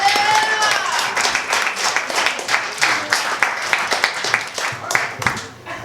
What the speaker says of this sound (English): I want everybody to give an arousing round of applause for Erica